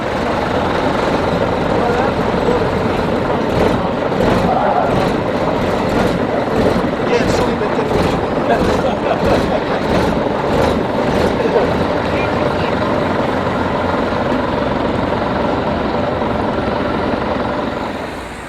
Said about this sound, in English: RML 903 again, pulling out of Potter's Bar Garage at the 2013 Open Day and setting off on a spin.